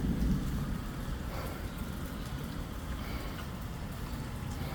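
Hail pounds down during a thunderstorm in Rock Hill, South Carolina, a steady dense rattle of large stones on surfaces with low rumbling underneath, heavier at the start and continuing without pause.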